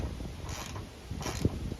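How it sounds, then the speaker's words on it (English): Bolts being tightened on a Nilight 21-inch light bar mount on a Jeep, with a few soft mechanical clicks and creaks of the wrench close up against faint background hiss, and no talking. "I'm just going to tighten up the other side as well."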